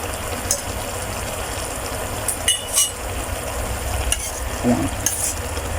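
A stovetop pot of pork belly, noni leaves and vegetables simmers with a steady bubbling hiss, broken by a few light clinks of a utensil against the pot.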